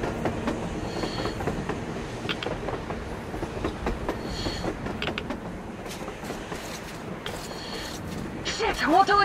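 A train runs on the surface in Metro Exodus, its wheels clattering in a steady rumble with occasional squeals, while voices talk over it throughout.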